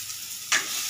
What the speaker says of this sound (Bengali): ছোলাটা ভেজেছি